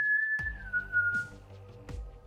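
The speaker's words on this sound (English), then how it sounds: "you hear a whistler walking through" A person whistles alone in a street at night, one clear sustained tone that slides slightly downward, with a few sharp knocks or footsteps around it in a quiet setting.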